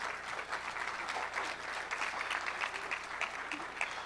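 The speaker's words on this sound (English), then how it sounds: "can you give all an applause to Ms. Floyd Miller" An audience at a 2024 JBSA retiree gathering applauds Ms. Floyd Miller with steady, even clapping that holds for about four seconds at a modest, somewhat distant level, with no voices on top.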